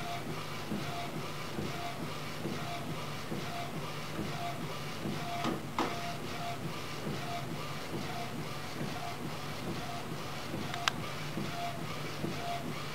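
An A4 UV printer prints onto a card, a steady mechanical hum with a repetitive shuffling, rhythmic carriage pattern running throughout at moderate, close level, with a couple of brief clicks and no talking.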